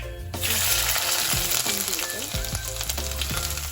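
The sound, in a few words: shallots, garlic, green chilli, curry leaves sizzling in oil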